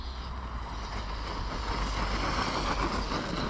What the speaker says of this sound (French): Il défoule un peu le moteur là.